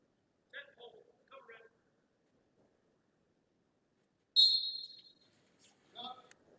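A referee's single sharp whistle blast at a college wrestling match, UWSP against UW-La Crosse, ringing out loud and clear between stretches of quieter play-by-play commentary.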